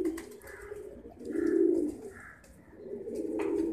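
Pigeons give deep, throaty coos in slow swelling phrases, three or four rising and fading calls at close range with no speech over them.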